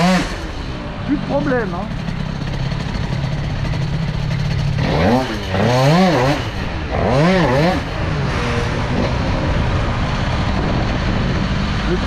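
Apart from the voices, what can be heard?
Stage6 MK2 engine starting and running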